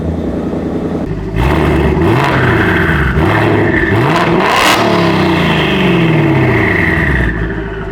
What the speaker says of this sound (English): Do a start up on the Huracan right here.